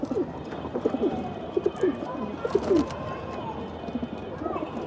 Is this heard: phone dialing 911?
no